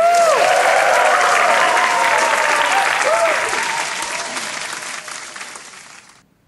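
A school cheering club claps and cheers together at an event. The dense, loud applause starts at full strength and fades away over the last couple of seconds, with a few shouts and whoops on top.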